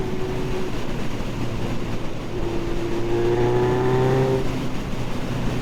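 A Suzuki GSX 1200 Café Racer motorcycle engine while riding, a steady droning hum with a rising whine as it accelerates, mixed with wind rush, close and continuous.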